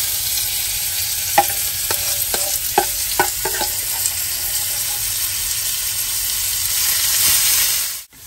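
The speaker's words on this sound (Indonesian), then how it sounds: "Dan kemudian tumis sampai wangi ya, teman-teman, perbawangan ini." Ginger and garlic stir-fry in a pan for an Indian chicken curry, giving a steady broadband sizzle. A short run of sharp spatula scrapes and taps sounds near the start, and the frying fades out abruptly at the end.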